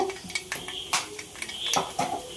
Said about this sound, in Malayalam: കടുക് നല്ലപോലെ പൊട്ടട്ടെ